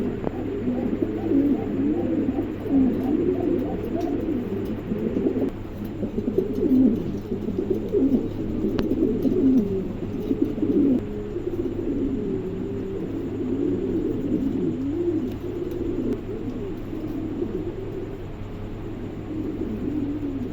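Pigeons coo in a low, rolling, repeated rhythm, several birds close by and overlapping continuously, with faint background hum.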